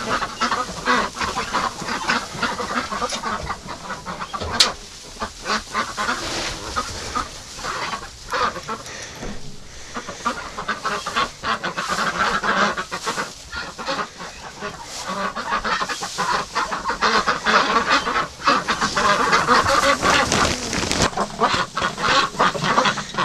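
Hungry ducks in a barn quack and honk in a constant dense chorus, loud and close, with scattered sharper calls over a steady din of flock noise throughout.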